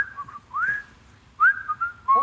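A man whistling a casual, nonchalant tune imitating the idle whistling heard in public toilets, a few wavering phrases with brief pauses, clear and close.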